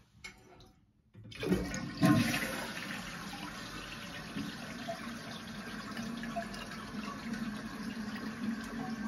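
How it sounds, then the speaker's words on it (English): A toilet test flush right after its fill valve was replaced: near silence breaks into a loud rushing flush, then steady water refilling the tank continues to the end with no talking. "Now I'm going to do a test flush to check the levels."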